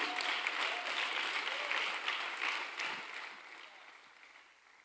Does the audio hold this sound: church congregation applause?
yes